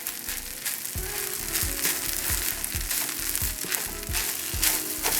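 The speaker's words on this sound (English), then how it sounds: "we're going to throw in our chards. Going to mix those into there." Onions, carrots and chard fry and crackle in a hot pan for five-spice fried rice, a steady sizzle broken by repeated scraping and tossing strokes of a utensil, close and moderately loud with no talking.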